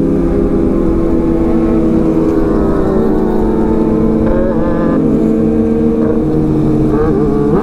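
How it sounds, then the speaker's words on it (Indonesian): A Kawasaki ZX6R motorcycle's exhaust revs loud and close, its engine note holding and then rising in pitch with several throttle blips toward the end. "lancar sekali knalpotnya."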